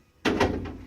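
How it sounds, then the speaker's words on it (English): A drawer on a custom-made toolbox is pulled open: a sudden close clack followed by a short rumbling slide that fades out, with no voices. "drawer open"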